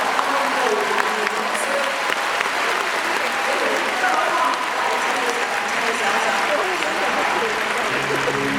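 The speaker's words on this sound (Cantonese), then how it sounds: "大家俾多啲掌聲" An audience at a Hong Kong concert tribute show applauds a singer with steady, dense clapping from a large crowd. The applause holds evenly and loudly throughout, with faint voices mixed into the crowd noise.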